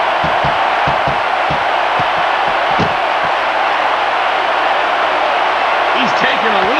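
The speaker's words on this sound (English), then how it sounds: "the crowd has come alive tonight with a chant directed at the superstars in the ring" A wrestling arena crowd at a Hell in a Cell triple threat match fills the space with a loud, continuous roar of chanting and cheering, with voices rising over it.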